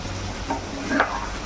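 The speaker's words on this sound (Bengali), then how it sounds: "ভালো করে মিক্স করে নেব।" A chilli chicken mixture with chilli flakes, sugar and chopped chillies is stirred in a sizzling pan, a close spatula scrape over a steady frying hiss, brief and without speech.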